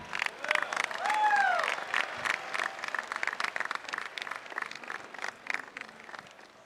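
A crowd at the West Point graduation ceremony applauds the band with steady, dense clapping throughout, joined briefly by a rising whistle near the start.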